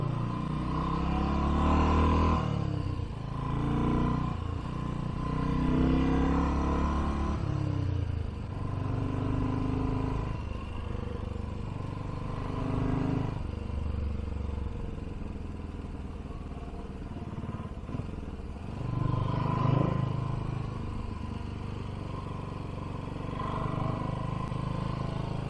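A BSA Gold Star motorcycle engine roars on the road, a steady loud thrum with rising and falling revs and wind rush throughout, heard from the rider's position.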